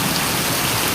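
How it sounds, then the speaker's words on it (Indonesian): Heavy rain pours steadily during a flood in Sukabumi, a dense, loud, unbroken hiss of drops hitting surfaces with no voices. "curah hujan ini tidak begitu besar sekali"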